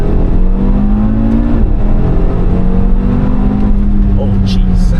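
A tuned Audi RS3 accelerates hard from 80 to 120, its engine droning loud and close from inside the cabin with rising tones as it pulls through the gears, while people talk over it.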